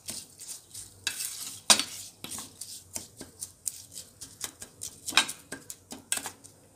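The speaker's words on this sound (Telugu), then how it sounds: "మంచి స్టీర్ చేసుకోండి." Paneer bhurji fried rice being stirred in a pan, a close series of irregular scraping and clinking strokes of a utensil against the metal over a faint sizzle, with no talk.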